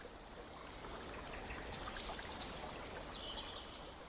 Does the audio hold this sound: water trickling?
yes